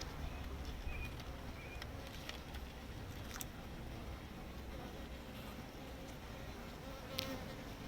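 Bees swarm and buzz steadily around an open beehive during a beekeeping session, a dense continuous hum that holds evenly throughout with a few brief sharper tones over it.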